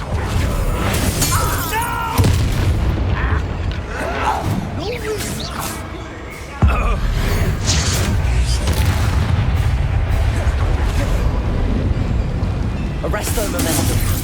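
Bombarda blasting spell in Hogwarts Legacy: a few sharp, cracking bursts with a brief shattering quality stand out amid continuous combat noise and spoken spell incantations.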